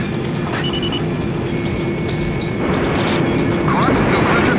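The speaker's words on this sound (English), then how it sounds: "Stop the train!" Train in the Ace Combat X: Skies of Deception PSP game: a steady, loud rumbling mechanical drone of rail and engine noise runs throughout, with brief tonal whines and faint game effects layered over it.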